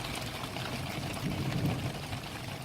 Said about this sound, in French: ça commence à pleuvoir, je vais avoir un petit peu d'eau.